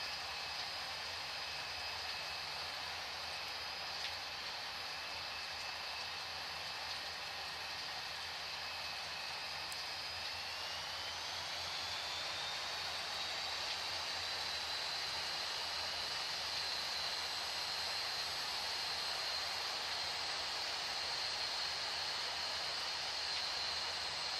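A Ryanair Boeing 737 MAX 8 taking off in Real Flight Simulator: a steady, loud broadband engine roar with a high whine that climbs in pitch about halfway through and then holds, with no talking.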